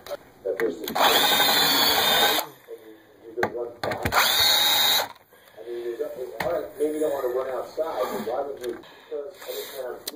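Two loud bursts of a power drill whining as it drives screws into pine braces on a table, separated by a pause, with someone talking between and after them.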